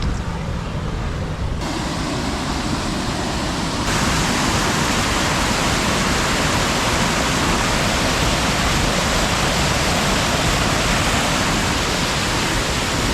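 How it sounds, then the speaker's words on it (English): A stream runs beside a walking trail on the South Fork Rail Trail in Lincolnton, North Carolina, its close, loud rushing continuous and unbroken for the whole stretch. "Something about running water just, it calms me down."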